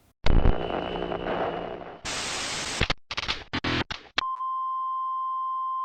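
Bursts of loud static and noisy clicks end in a single clear, steady electronic beep that holds for over a second, like a voicemail tone.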